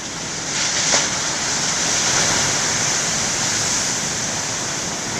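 Big ocean waves crashing and surging in a continuous loud roar of broad rushing surf, close and steady throughout with no speech.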